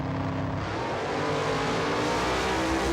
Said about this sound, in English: a wild burnout from a supercharged car